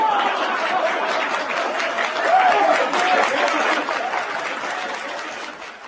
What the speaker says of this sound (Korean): 국회 본회의 장내에는 우레와 같은 박수소리가 터져나왔다